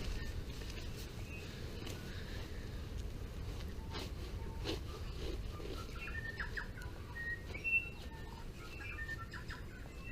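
Bird calls on Mutton Bird Island, faint chirps and short whistled notes scattered over a steady, low outdoor rumble of wind or surf.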